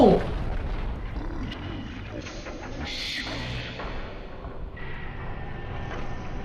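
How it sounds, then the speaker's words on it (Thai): Heavy booming cannon blasts and rumbling explosions from a video game, a deep roar that lingers, with a loud burst at the start and softer rumbles after. "อู้ปืนใหญ่"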